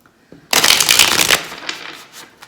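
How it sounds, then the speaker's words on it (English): Tarot cards are shuffled hard, a loud, close burst of riffling that runs for about a second and then fades into softer scattered flicks. "I'll do a good hard shuffle."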